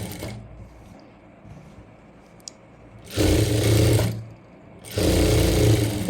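A sewing machine stitches a kurti side seam down to the hip in two loud, close bursts of rapid whirring, each about a second long. A quiet pause separates the bursts, and faint background noise comes before them.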